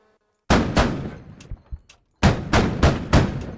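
Several loud, close gunshots from a new weapon in the video game Squad, fired as single sharp reports: two, a brief pause with faint scattered clicks, then four more evenly spaced shots, each trailing a short echoing decay.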